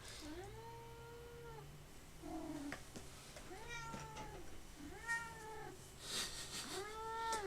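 A domestic cat meows repeatedly, five or six clear, fairly close drawn-out calls in an irregular rhythm, with light background rustling and no talking.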